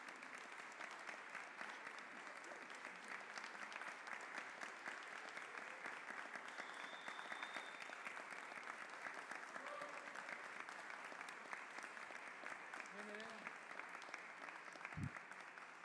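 Steady applause from an audience fills the Salón Eva Perón of the Cámara Alta at a city centenary ceremony, sustained and even throughout, with faint voices underneath.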